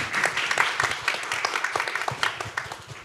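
Sustained applause from a conference audience at a plenary session of the 2022 Jeju Forum, welcoming a professor to the stage; dense, steady clapping throughout with no one speaking.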